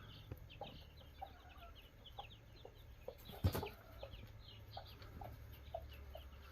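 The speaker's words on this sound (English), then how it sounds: "Look at the cute little chickies." A hen with her chicks clucks softly in a farmyard, with short repeated calls and faint peeps scattered throughout and one louder burst near the middle over a low background hum.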